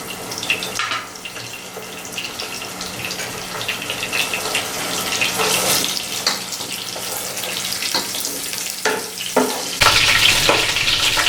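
Goat trotters fry lightly in oil with ginger garlic paste, giving a continuous close sizzle and crackle that grows a little louder near the end, with no talking.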